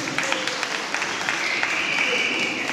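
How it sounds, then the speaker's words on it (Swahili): An audience at a choir album launch celebration applauds briefly, scattered clapping heard at a moderate distance with voices in the background. "Makofi tena kwao jamani."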